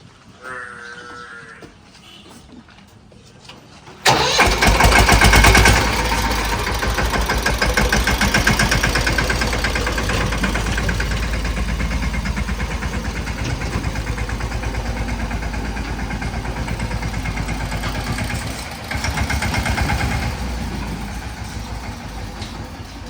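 A tractor engine starts up abruptly after a quiet opening and runs steadily, a close low drone, with a cow mooing faintly at the start.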